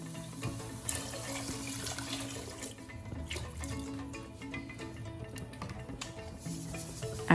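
Hot water is poured into a cooking pot over a spice mixture of turmeric and red chili powder, giving a steady, continuous splashing pour of moderate loudness that runs throughout with no talking.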